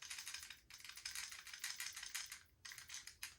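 A 15-round magazine wobbles loosely inside a Smith & Wesson M&P 2.0 10mm pistol, making quiet, close plastic-and-metal rattling in quick bursts with short pauses between them.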